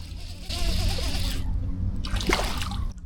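A hooked bass splashes and thrashes at the water's surface nearby in two bursts of splattering, with no speech over it.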